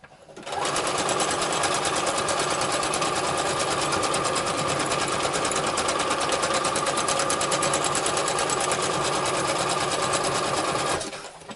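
A sewing machine stitches a pilot belt and ejection harness near a buckle, running in one continuous, fast, even rattle for about eleven seconds before stopping abruptly.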